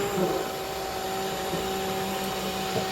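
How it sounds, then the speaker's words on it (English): A blender purees potato leek soup with a steady, continuous motor whir that stays loud and even throughout, with no speech over it. "I've been blending for around 3 minutes."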